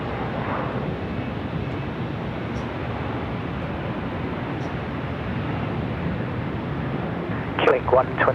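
A steady, broad engine roar from a Phantom aircraft at Sydney Airport holds at moderate loudness throughout, with a brief scrape of other noise near the end.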